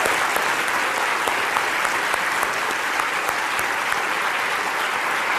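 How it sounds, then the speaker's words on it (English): Steady, dense applause from a lecture theatre audience at a Royal Institution Christmas Lecture, many hands clapping together at an even, moderate level throughout with no pauses. "give them a round of applause"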